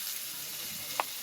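Chilli and turmeric powder with salt frying in oil for a fish curry, a soft steady sizzle close by with one brief stir or clink near the end.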